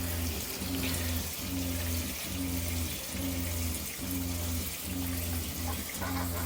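A shower faucet in an Airstream RV runs antifreeze through the plumbing while being winterized, a steady rushing flow broken by a regular pulsing throb from the pump, close and fairly loud.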